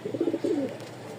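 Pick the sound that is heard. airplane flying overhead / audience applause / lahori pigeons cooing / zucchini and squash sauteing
lahori pigeons cooing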